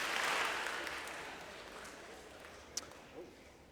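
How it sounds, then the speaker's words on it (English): A school assembly audience in a middle school auditorium claps in response to a request, a soft wash of scattered applause that fades away, heard from the room rather than up close. "Clap twice if you can hear my voice."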